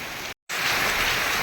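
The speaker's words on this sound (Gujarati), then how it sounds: "જોરદાર વરસાદ તમે જોઈ શકો અમારી પાછળ છે બધી જગ્યાએ પાણી પાણી છે" Heavy rain falls steadily in a Gujarati village, a dense continuous hiss of drops on surfaces, broken once by a short moment of total silence before the downpour resumes, with no voices.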